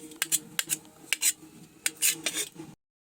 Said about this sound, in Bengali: এবার আমি ডিমগুলো খুব ভালোভাবে মিহি করে কুচিয়ে নেব।